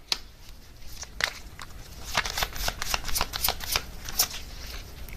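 Tarot cards shuffled and drawn by hand, a close, steady run of crisp riffling flicks and slaps that continues throughout without any talking.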